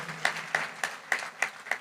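A church congregation claps loudly in a slow, even rhythm, with six sharp claps echoing in a hall and no voices over them.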